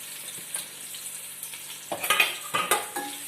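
Finely chopped onion sizzles in hot ghee in a pan for ghee rice, a steady close hiss broken by a few stirring scrapes and clinks of a spoon against the pan.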